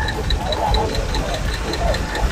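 A used Nissan ambulance engine idling right after starting, a close, steady mechanical chug with a regular ticking rhythm while someone talks over it.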